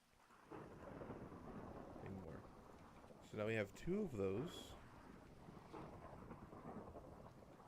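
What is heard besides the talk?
thunder in a video game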